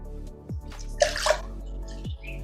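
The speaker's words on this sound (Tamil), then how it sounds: "தண்ணி கொஞ்சம் நிறைய ஊற்றிட்டணும்." Water pouring and splashing into a vessel in a home kitchen, a steady running pour with a brighter gush midway, close and fairly loud, with no talking.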